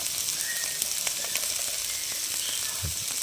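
Ginger and spices sizzle and fry in a pan for a Bengali rohu fish curry, a steady bright crackle with a few soft stirring scrapes, close and continuous with no talk.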